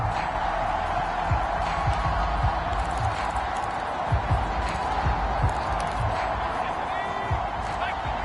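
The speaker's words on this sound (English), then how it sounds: "Plenty of shouts from this crowd as they watch the replay" A Madden football video game crowd shouts and roars in a steady wash of noise. Thumps and knocks come through it, and a voice talks under the crowd.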